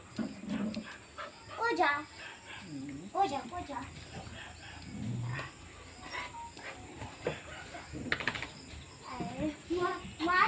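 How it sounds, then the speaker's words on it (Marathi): A dog barks a few times in short bursts, with soft whimpers, while people chat nearby. "कुत्रे"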